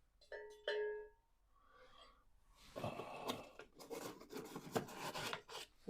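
Wet sanding of a guitar's clear coat with a fresh 400-grit disc, a steady abrasive rasping that starts after a few seconds and follows a brief ringing tonal chime near the start.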